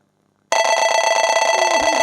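A telephone rings with a sudden, loud, continuous electronic tone that starts abruptly after silence and holds steady, close to the microphone.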